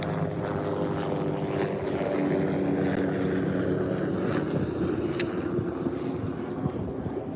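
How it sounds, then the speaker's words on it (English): A helicopter's steady engine drone with rotor-like throb hangs overhead during bass fishing, constant and moderately loud, with no voices. "Can you guys see that helicopter up there?"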